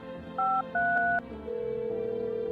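Touch-tone dialing from a phone in the video game No, I'm not a Human: a few clear paired beeps, one short then one longer, followed by a steady ringback tone over a quiet background hum.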